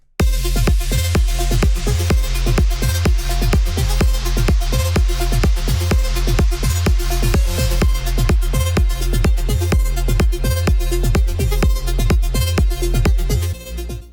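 A future rave drop built in Logic Pro X, processed with OTT compression and EQ, pounds out loud and dense, with steady punchy kicks and bright synth layers driving without pause for about fourteen seconds.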